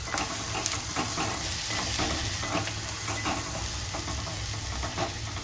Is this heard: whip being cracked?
no